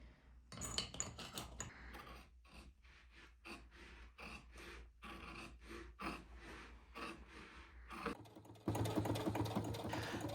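A sewing machine stitches the folded seams of a pre-waxed canvas tool roll in a workshop, running in close, loud bursts of rapid stitching separated by short pauses, with a rougher steady noise taking over near the end.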